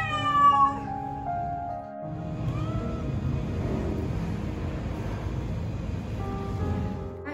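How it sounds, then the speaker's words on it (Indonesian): Stray cats meow in loud, drawn-out wailing calls, one voice near and insistent at first, then more cries overlapping over a steady rushing background. "Ini kucing selokan."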